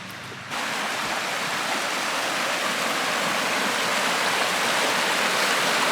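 A river in the Victorian High Country rushes along beside a campsite in a continuous broad, steady wash of flowing water that stays close and loud throughout.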